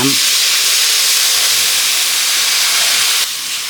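Water poured into flour and sugar frying in a pan sets off a loud, continuous sizzling hiss of steam that holds steady and eases off slightly near the end.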